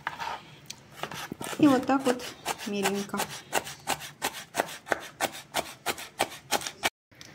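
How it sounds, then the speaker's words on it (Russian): A knife chops celery rapidly on a cutting board, a quick run of crisp, evenly spaced taps, while someone speaks briefly at the start. "Сельдерей нарезаем достаточно мелко."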